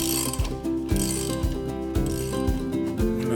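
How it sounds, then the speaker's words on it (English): A 32mm gear wrench ratchets steadily while cranking down a screw on a roller-bearing tool, giving a run of close mechanical clicks that come in bursts about every half second, each burst ending in a heavier clunk. "using a 32mm gear wrench, this comes with the Roller Tamer, by the way, but we're going to start cranking down on that screw"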